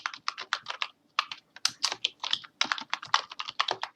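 Password being typed on a computer keyboard while configuring Windows Server 2019, close rapid key clicks in short bursts separated by brief pauses, with no talking.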